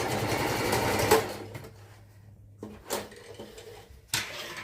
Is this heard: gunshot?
no